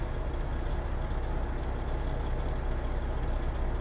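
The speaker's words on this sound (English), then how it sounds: "the engine sounds great in this truck" A Kenworth W990 truck idles in American Truck Simulator, a steady, low rumbling engine, even and unchanging throughout, with no voices.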